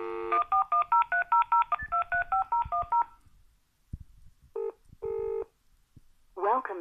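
Touch-tone keypad tones from a telephone being dialled to ring back a social services line, a rapid run of about a dozen evenly spaced beeps followed by a few separate tones and brief voice fragments.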